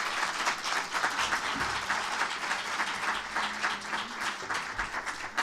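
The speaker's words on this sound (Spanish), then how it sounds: "ahora vamos a pedir un aplauso" An audience applauds at the end of a lecture on prehistoric thought and spirituality, with dense, sustained clapping filling the room at moderate distance, alone without talk.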